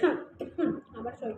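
A person suffering from a cold coughs in a few short, raspy bursts spaced about half a second apart, close and fairly loud, with no speech.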